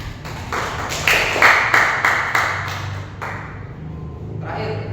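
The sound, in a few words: applause, clapping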